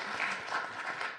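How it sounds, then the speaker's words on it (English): A brief burst of audience applause at an education event, dense steady clapping from a crowd that holds evenly throughout. "round of applause for that"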